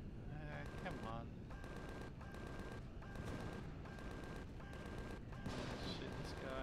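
Gunfire in a shooter video game clearing enemies on a mission, with repeated rapid shots in bursts and a continuous loud barrage that fills the whole stretch.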